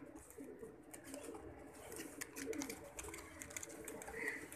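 Sialkoti breed pigeons coo softly over a steady background hum, with soft bird calls rising and falling across the few seconds and no clear speech.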